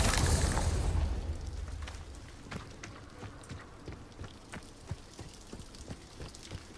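A Confringo blasting curse goes off in Hogwarts Legacy. A loud booming blast at the start fades into scattered, faint crackling debris pops.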